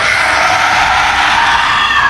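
A loud, sustained unearthly shriek from a creature burning, with a harsh, bright, roaring tone held steady and close for about two seconds with no break.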